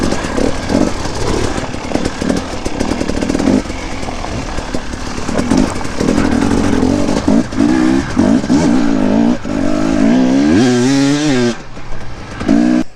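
An enduro motorcycle picking its way over big rocks, engine blipping and revving unevenly with rattles and knocks, then a sharp rising rev near the end, loud and close.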